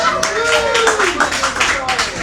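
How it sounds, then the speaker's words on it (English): A small audience at a River Phoenix fan event claps briefly, producing a patter of applause that is nearby and moderately loud, mixed with a voice talking over it. "Give a round of applause."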